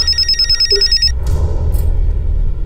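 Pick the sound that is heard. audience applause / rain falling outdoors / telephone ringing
telephone ringing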